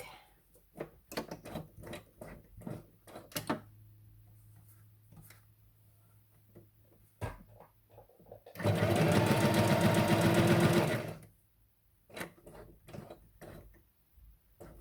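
A sewing machine stitches zigzag on a craft project in one loud, steady mechanical burst of about two seconds, set between stretches of quiet handling clicks and rustles.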